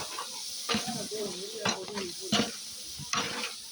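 Tomatoes with chilli powder fry and get stirred in a pan, giving a soft sizzle broken by scraping spoon strokes, while voices talk nearby.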